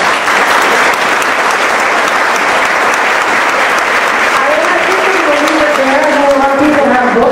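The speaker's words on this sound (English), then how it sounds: "please, a round of applause for Ayaan Hirsi Ali" Audience applause at a talk with Ayaan Hirsi Ali, a dense, sustained clapping from a large crowd, loud and close, with a voice speaking over it toward the end.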